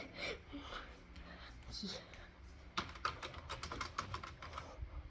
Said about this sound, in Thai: คีย์บอร์ด